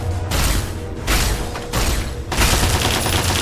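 Bursts of gunfire from a video game in which a hostile security turret is being fought, several loud overlapping volleys with brief gaps, close and dense.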